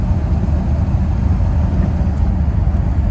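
An El Camino drives through cold winter weather, giving a steady low engine drone and road rumble heard from inside the car, continuous and fairly loud, with no talk.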